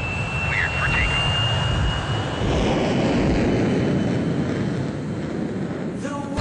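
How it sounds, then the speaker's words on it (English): An Air Busan airliner roars down the runway on takeoff, its jet engines a loud, steady rush that swells and holds, with faint voices and a brief tone layered over it. "Cleared for takeoff."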